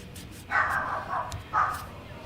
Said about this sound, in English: I got a dog over there barking.